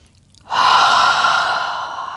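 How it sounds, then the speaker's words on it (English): One long, close exhale during a prenatal yoga session, a strong breathy rush that starts abruptly and fades slowly over about two seconds with no speech. "2 full breaths here"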